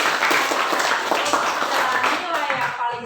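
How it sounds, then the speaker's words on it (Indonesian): Students in a classroom clap together after a correct answer, a lively burst of many hands that thins toward the end, with voices talking over the clapping. "Tepuk tangan."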